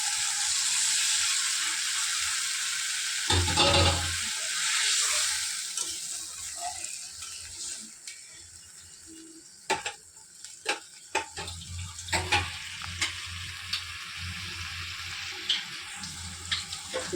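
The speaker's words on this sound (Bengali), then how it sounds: "এবার আমি আরেকটু জল দিয়ে দেবো, সামান্য জল দিয়ে দেবো" A small splash of water poured into the hot oil of a silver carp curry sets off a loud, steady hiss that fades, followed by scattered pops and spoon clatter in the pan.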